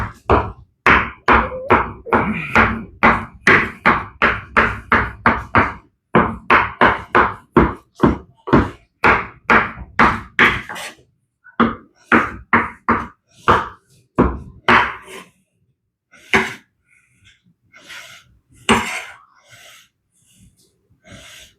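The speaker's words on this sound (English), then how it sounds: "Grab a chopping machete." Cooked chicken is hacked apart with a chopping machete, with rapid rhythmic thwacks on a board that come in fast bursts and then slow into scattered, heavier single chops.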